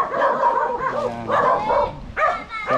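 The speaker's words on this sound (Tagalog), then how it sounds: "So ang daming aso ni ate." Several dogs bark and yip in quick overlapping bursts, close and fairly loud, with a brief whimper among them and no talking.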